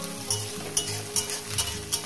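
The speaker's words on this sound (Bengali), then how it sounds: "পেঁয়াজ থেকে দিয়ে মিনিট 2 দিয়ে আমি এটাকে ভেজে নেব।" Chopped onion frying in a pan for a goat-fat and mince jackfruit curry, a steady close sizzle with soft rhythmic stirring scrapes every half second or so.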